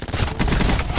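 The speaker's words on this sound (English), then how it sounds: "My gun shoots as fast as yours." A gun fires in a video game, a loud, dense rapid burst of shots filling the whole second.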